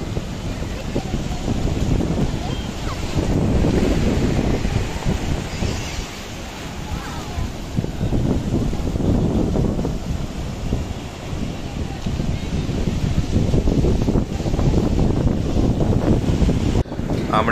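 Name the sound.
sea waves and wind at Cox's Bazar beach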